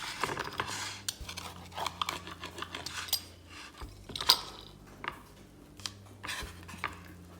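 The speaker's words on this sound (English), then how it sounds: "Using a pizza cutter, I'm going to slice these." A pizza cutter rolls through crispy chicken snacks on a plate, giving quiet scattered clinks and scrapes against the plate over a low steady hum, with no voices.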